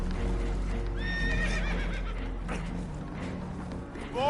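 Spooked horses in Red Dead Redemption 2 whinny in rising shrill calls over a steady low rumble, aboard a damaged boat taking on water, with clattering hooves underneath.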